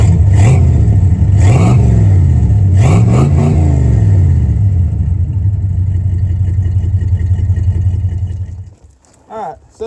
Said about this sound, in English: We're going to see what it sounds like with the old exhaust